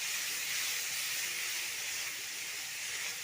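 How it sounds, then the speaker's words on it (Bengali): Spices fry in a pan for ghugni, a pea curry, giving a close, steady hiss and sizzle that holds at an even level throughout with no talking. "দেখুন মশলাটাকে আমি ভালো করে ভেজে নেবো।"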